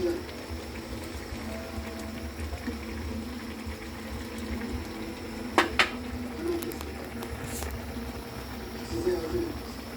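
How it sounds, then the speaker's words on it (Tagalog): Sarsiyadong isda, fish in sauce, boiling in a pot, giving a steady low bubbling simmer throughout with a couple of brief clinks and faint background noises. "Kulong-kulo na"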